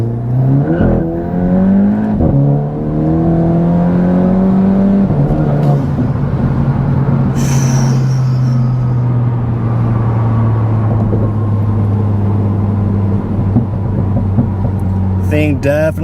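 A Volkswagen Golf GTI with a stage 1 tune accelerates hard from a stop, heard from inside. The engine note climbs steadily, drops at a gear change and climbs again, with a voice talking over the loud drone.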